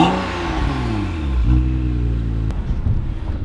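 A stage 2 tuned BMW X1 (E84) with an N55 engine, downpipe and MHD tune, revving hard: a loud, close engine note that climbs, drops and climbs again, with no voices.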